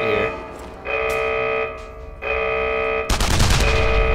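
Gunfire from the World War II shooter game Enemy Front erupts as a loud, dense burst of rapid shots in the final second, following steadier tonal game sound.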